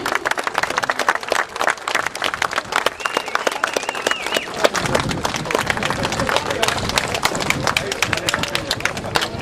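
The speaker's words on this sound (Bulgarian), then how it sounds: "Аплодисменти за тях." Sustained applause from a crowd at the Trayanovi Vrata 2011 competition, dense clapping that grows fuller and heavier midway, with faint voices mixed into the noise.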